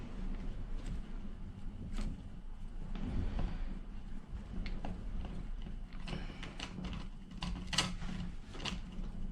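Screws being undone with a screwdriver on an HPI Bullet RC stadium truck, giving faint ratcheting clicks and small creaks in scattered bursts, close up and quiet.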